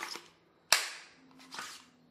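A pistol pulled from a kydex holster released by index-finger pressure gives one sharp, close plastic click, with soft rustling of handling before and after.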